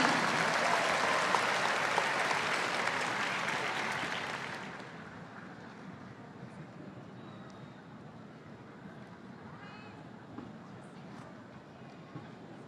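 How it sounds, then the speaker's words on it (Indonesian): A large crowd at a national solidarity movement declaration breaks into loud, dense applause that holds for several seconds before dropping to a low murmur of room noise. "Mari kita berikan tepuk tangan sekali lagi yang paling meriah."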